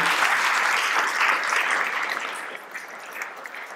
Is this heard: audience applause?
yes